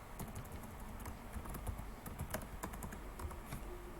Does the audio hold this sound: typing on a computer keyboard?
yes